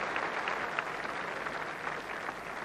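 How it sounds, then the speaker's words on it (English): Dense cricket crowd at Old Trafford applauding a catch during a Lancashire v Yorkshire one-day semi-final, a steady, loud wash of clapping throughout with no voices over it. "Huge applause here from the enormous Old Trafford crowd for Warren Hegg"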